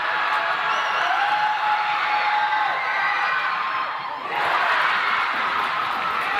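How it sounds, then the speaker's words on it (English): Away crowd in a girls' high school basketball gym yelling against a shooter at the free-throw line, a sustained loud roar of many voices that dips briefly before surging again. "And it comes in an away gym with the crowd yelling against her."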